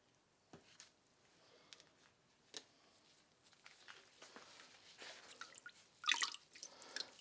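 A Damascus steel blade is lifted from etching solution and drips steadily, scattered soft droplets falling quietly, then a louder cluster of splashes near the end.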